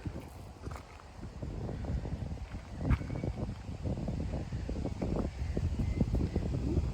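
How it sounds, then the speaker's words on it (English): Wind buffets the microphone at the front of a Georgian house beside a walled garden, a steady low rumbling gust with uneven thumps and rustles and no speech. "Quite windy around the front without the wall to protect you."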